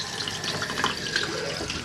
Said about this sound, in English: Press the blue button, which is your freshwater flush.